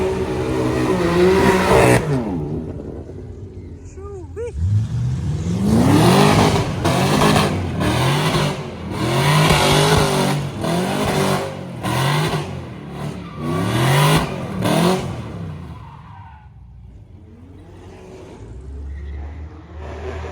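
Cars arrive one after another at a wet breakfast car meet, engines revving loudly in repeated close passes with tyres hissing on the damp road, then fading away; there is no talk.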